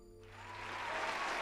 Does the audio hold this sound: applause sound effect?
yes